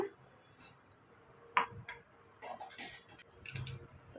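Sparse, sharp little pops and crackles of mustard seeds spluttering in hot oil for a South Indian tempering, scattered irregularly and fairly quiet against a soft background hiss.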